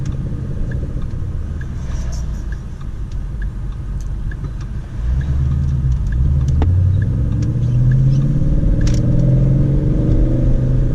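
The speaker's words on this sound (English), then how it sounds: "the car still jerks a little bit when I switch gears" A manual transmission car is driving, its engine rumbling up close; midway the pitch and loudness shift as a gear is changed, then the louder rumble carries on steadily, with no talk.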